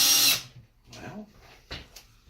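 A short, loud whir of a power drill that stops abruptly, followed by quieter clattering and shuffling.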